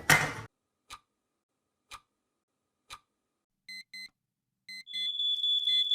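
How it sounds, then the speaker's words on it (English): Oven timer set for baking pizza: a short rustle, then three evenly spaced ticks a second apart, followed by bursts of electronic beeping that build into a continuous ringing alarm, close and clear. "you want to put this on a timer for 16 hours, and yeah, it should be it for the oven"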